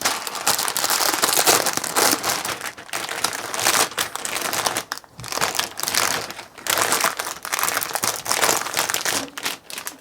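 The crinkly plastic bag of a Zvezda UAZ Bukhanka scale model kit is handled and opened. Close, loud bursts of crumpling and crunching plastic come in irregular waves with brief pauses between them.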